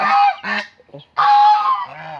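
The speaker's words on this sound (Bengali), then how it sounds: "রাজা হাঁসের বাচ্চা কয়" Young goslings honk loudly close by, a few harsh nasal calls in quick succession with a short pause between them, and no talking.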